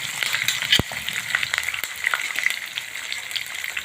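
Peanuts frying in hot oil alongside cumin, sesame seeds and green chilies for sabudana khichdi, a steady close sizzle with scattered sharp pops and crackles throughout, no talking.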